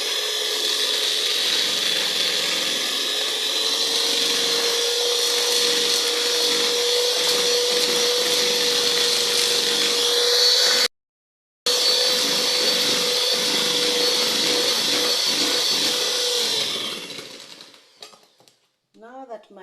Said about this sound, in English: So I'm going to mix this until the sugar is nicely blended.